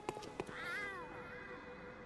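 A voice imitates a cat with a drawn-out, wavering meow, preceded by a couple of short clicks, fairly close and alone.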